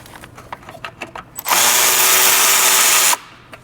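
A power tool whirs loudly and steadily for about two seconds while backing out the nut on a Toyota power steering line, preceded by a few faint clicks and handling sounds.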